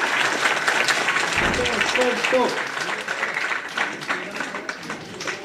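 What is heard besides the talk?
church audience applause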